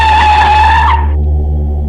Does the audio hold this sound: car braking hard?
yes